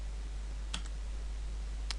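A few sharp keystrokes on a computer keyboard while typing ActionScript code, two quick clicks early on and one more near the end over a steady low hum.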